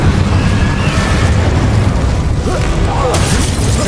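Fire spells burst and boom continuously in Hogwarts Legacy combat, a dense roar of loud blasts with little pause, while a voice shouts spell names over the din.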